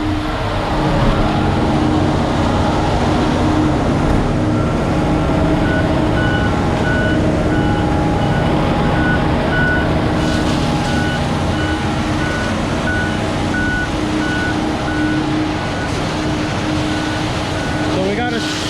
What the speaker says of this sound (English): Gotta wind the truck up so that way the concrete can keep mixing.